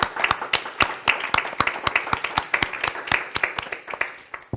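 An audience claps for the presenters of a young climate innovators program, a small group's sharp, distinct claps at a steady quick pace, fairly close and clear with no talking.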